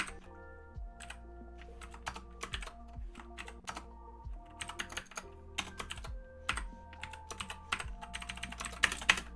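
Rapid keyboard typing on a computer keyboard, with irregular bursts of keystrokes over a steady low hum throughout.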